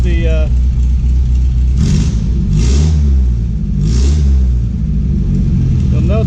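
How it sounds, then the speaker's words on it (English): A 1959 Triumph TR3 engine starting from cold, a steady low rumble that swells in brief revs, loud and close, with a faint voice at the start. "All right, we're going to do a cold start."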